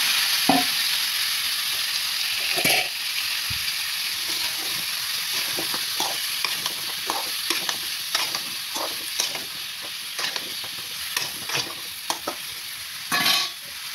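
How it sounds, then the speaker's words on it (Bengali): Bottle gourd fries with cumin in hot oil, a loud steady sizzle and hiss broken by frequent scraping strokes as the pieces are stirred. "সুন্দর করে নেড়ে চেড়ে দিচ্ছি"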